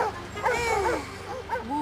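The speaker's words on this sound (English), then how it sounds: "You know the drill. Everybody bark." Several animated cartoon dogs at a pound yip and whimper in a noisy chorus, high-pitched and overlapping, with a slightly muffled, busy background.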